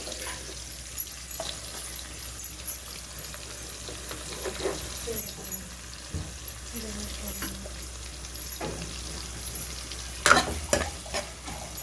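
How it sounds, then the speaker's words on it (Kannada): Onions frying in oil in a pan for a biryani gravy, with a soft steady sizzle under intermittent stirring and scraping, a few louder clatters near the end, moderately close. "ಈರುಳ್ಳಿ ಒಂಚೂರು ಫ್ರೈ ಆಗಲಿ."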